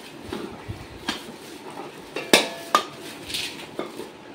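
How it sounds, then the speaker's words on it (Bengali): Small metal saucepans with lids are handled up close, giving a few light clinks, taps and one sharp metallic clatter over a quiet room. "এইগুলো ছোট ছোট সসপ্যান, ঢাকনা দিয়া দুটো নিয়ে এসছি"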